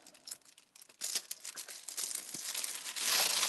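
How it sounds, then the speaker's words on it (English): Plastic packaging gets handled and crinkled up close, starting with sparse soft crackles, then building into dense, continuous rustling and crumpling that grows louder toward the end, with no voices. "making a massive crinkly noise"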